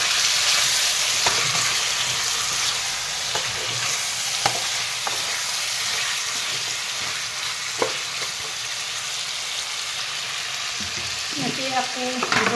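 Chicken and beetroot frying in a pan as powdered spices like coriander and cumin are stirred in, a steady broadband sizzle with repeated scraping spoon strokes close by, no talking.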